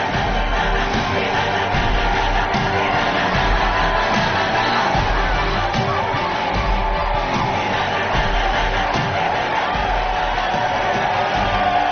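A large political crowd shouts and cheers continuously at a rally, a dense, loud roar of many voices holding steady throughout with no pauses.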